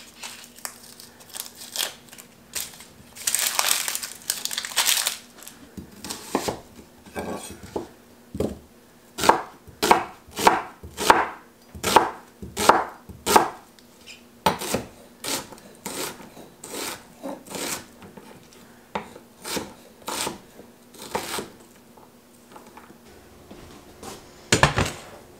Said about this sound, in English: So I'm just going to get this chopped up and we'll get them sauteing.